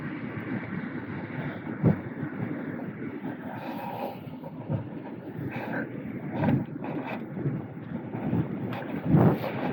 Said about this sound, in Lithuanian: Nes vėjas yra baisus